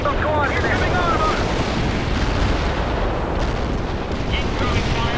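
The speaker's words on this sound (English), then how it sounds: "We will bombard those coordinates." Artillery bombardment in the strategy game World in Conflict, a dense, continuous rumble of overlapping explosions and blasts, loud and unbroken, with faint whistling streaks above the roar.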